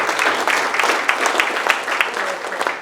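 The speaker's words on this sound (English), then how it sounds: "Give them a round of applause." Audience applause at a corporate leadership forum on talent management: dense, steady clapping from a room full of people, loud and close, with faint talk mixed into the crowd noise.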